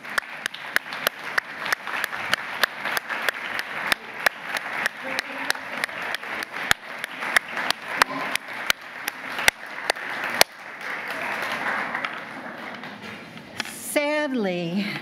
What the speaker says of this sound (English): I'm hoping that you all can stand up for a second so we can applaud you